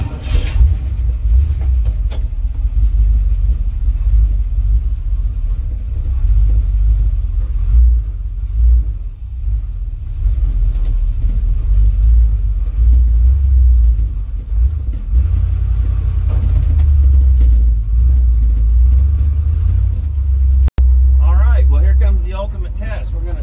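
Car with a rebuilt GM 350 Turbo transmission running in a shop, a steady loud low rumble and drone throughout with engine revving swells, near and continuous, and one abrupt click near the end.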